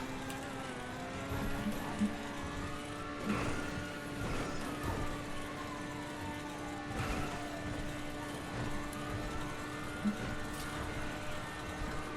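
A car engine drives in a video game, a steady tonal hum whose pitch glides up and down through gear changes, with occasional knocks and clatters over a quiet background.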